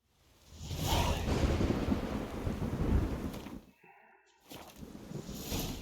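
A thunderstorm in the video game The Witcher 3: heavy rain and a long rolling thunder rumble close by, then a brief lull before the downpour resumes.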